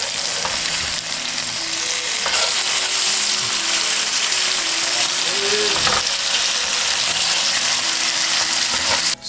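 Tofu fries in a pan with a steady, close, crackling sizzle that holds throughout, broken by a few faint clicks and scrapes.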